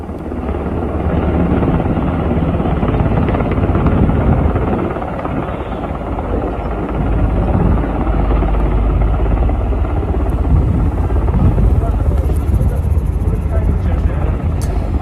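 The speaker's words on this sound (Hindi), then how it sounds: "हम आपको कंधार में उड़ते हुए ब्लैक हॉक का एक और वीडियो दिखाते हैं।" A Black Hawk helicopter flies over Kandahar with a loud, steady rotor and engine roar that holds throughout, close overhead, and talk runs beneath it.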